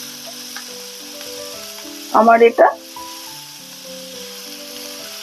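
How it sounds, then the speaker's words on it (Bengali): Prawn heads hit hot oil in a pan, where pointed gourd has already been fried, and spit out a sudden loud sizzling burst for about half a second, while someone talks briefly over a quiet background hum. "এর মধ্যে চিংড়ি মাছের মাথাটাও দিয়ে দেবো, দিয়ে আরো একবার ভাজবো।"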